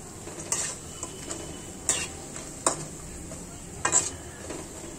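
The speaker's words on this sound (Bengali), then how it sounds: "আর এগুলোতে আস্তে ভাজা হচ্ছে, এগুলোতে পানি যেটা আছে সেটা বাষ্প হয়ে চলে যাচ্ছে।" Homemade snacks frying slowly in oil give a soft, steady sizzle, broken by a few sharp clinks of a spoon against the pan, with no talking.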